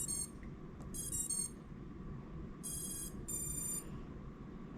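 A few short, high electronic beep bursts from a small drone's electronics sound in quick clusters over a steady low hum, fairly quiet and with no voices.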